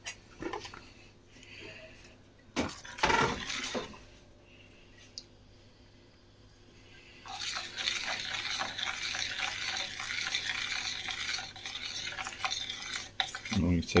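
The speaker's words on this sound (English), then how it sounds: "Put it back on the heat and just keep stirring it now till it starts to thicken up." Trifle custard is stirred in a pan back on the heat, with a few sharp knocks and scrapes early on, then a steady rasping scrape of the spoon that grows busier and louder toward the end, close by, with no talk.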